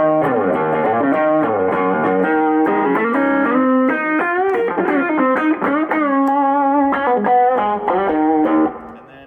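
Electric guitar run through a Tube Screamer overdrive pedal for a little extra dirt, playing a busy, lightly distorted melodic line with bends and quick note runs, loud and alone for about nine seconds.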